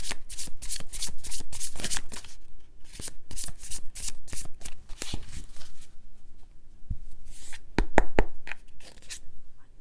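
A tarot deck is shuffled and cards are pulled: dense, rapid riffling and papery slapping, close and steady. A few separate flicks and snaps follow as single cards are drawn.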